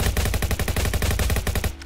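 Rapid automatic gunfire in the Roblox game Jailbreak, a loud, continuous burst of evenly spaced shots firing roughly a dozen times per second for nearly two seconds, close and alone with no voices.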